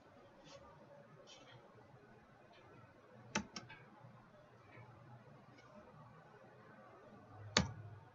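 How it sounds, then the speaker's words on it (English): A couple of sharp computer mouse clicks during a DNS troubleshooting lab on a Windows server, two close together early and one louder click later, over a quiet room hum. "And then click on Test Now."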